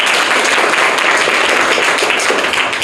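Dense applause from a crowd at a school quiz competition, a steady roar of many hands clapping at once, loud and sustained throughout.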